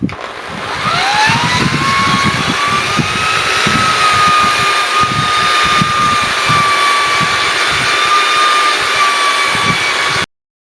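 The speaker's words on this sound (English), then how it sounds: "I just sanded this light off with the 500 as you saw" A power sander with a 500-grit disc works a 2004-2006 Pontiac GTO plastic headlight lens, a steady loud whine running continuously for about ten seconds before stopping abruptly.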